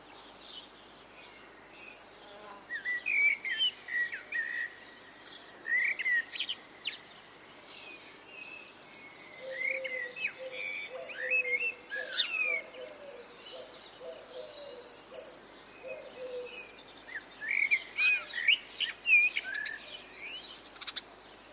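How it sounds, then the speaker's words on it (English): Early-morning dawn chorus with blackbird song and a cuckoo among other birds, faint and distant, with calls and warbling phrases coming in scattered bursts over a quiet background. "The Dawn Chorus, and there was a cuckoo in there too."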